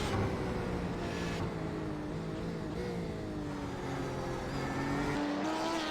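Porsche 991 race car in a racing video game at Silverstone, heard onboard as a steady, loud engine drone with rising and falling tones through the gears, no voices.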